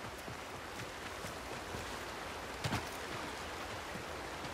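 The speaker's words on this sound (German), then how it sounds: "was ist denn das hier für ein Fluss?" River water flowing in the Warframe video game, a steady broadband rush with a brief splash partway through, continuous and fairly loud, with no voices.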